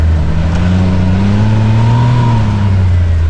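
CFMOTO Z10 side-by-side accelerating smoothly, its engine drone rising steadily in pitch close up and loud, with no talking over it.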